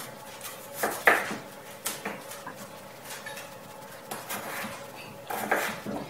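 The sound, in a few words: slicing a potato with a knife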